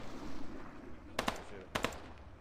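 Two short bursts of automatic gunfire crackle in a SQUAD military shooter match, somewhat distant over a rumbling background.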